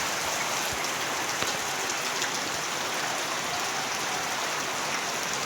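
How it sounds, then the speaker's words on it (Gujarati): Rain falling steadily at a school building, a continuous even hiss of drops on surfaces that stays constant in level from start to finish. "વરસાદ ચાલુ થઈ ગયો"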